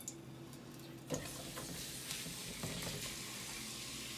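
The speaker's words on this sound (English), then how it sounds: "You can hear that sound of searing going on." Pot roast meat sizzles and sears in a hot pan, a steady crackling hiss with a few sharper pops, fairly quiet and close, no voices.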